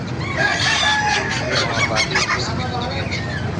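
Geese honk repeatedly in a noisy, crowded animal market, several birds calling over one another at close range with steady background bustle.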